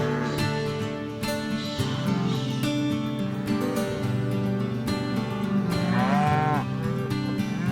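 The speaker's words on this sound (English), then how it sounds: "the cows off in the distance coming in" Cattle moo in long, drawn-out calls from a distance in the Australian bush at Corryong, repeating over a continuous layer of ambient noise.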